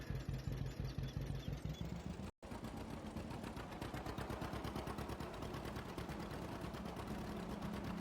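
A John Deere A tractor in Farming Simulator 22 idles with a steady, faint putt-putt pulse, broken once by a brief dropout before the same even rhythm resumes.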